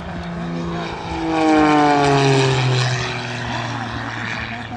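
Aerobatic propeller airplane flying low and sideways at an air show, its engine drone swelling loudly as it passes close with shifting pitch, then easing off under steady background noise.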